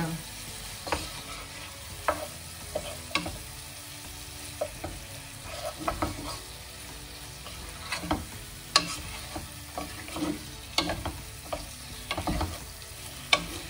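Spiced rice and meat frying in a pan, with a continuous sizzle and repeated scraping stirs of a utensil at close range, in a steady rhythm without talk.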